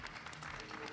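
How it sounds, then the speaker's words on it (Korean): Studio audience applause at a K-pop group's final evaluation, a steady, dense wash of clapping sustained throughout the short moment, fairly loud with faint crowd murmur underneath. "마지막 다시 한번 박수 한번 쳐줄까요?"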